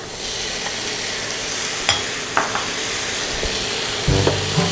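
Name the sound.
pork sizzling as it is added to the frying pan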